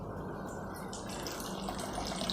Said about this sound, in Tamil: 3/4 கப் கிட்டவே தண்ணி விட்டுருங்க